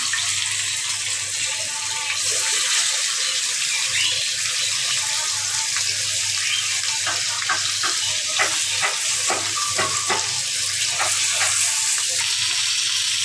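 Hilsa fish fry in hot oil in a pan, a steady loud sizzle with a burst of sharper crackles and spatters in the middle stretch, no talk.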